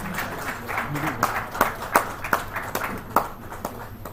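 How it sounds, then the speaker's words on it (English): Scattered audience applause at a chamber of commerce breakfast meeting, individual hand claps distinct and fairly sparse rather than a full ovation, with a voice under it. "a round of applause for him to take this."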